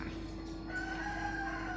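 A nearby cock crows once, the call swelling a little way in and holding steady to the end, with no talking heard.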